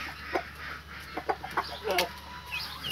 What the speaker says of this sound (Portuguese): Aqui tá um galo índio gigante.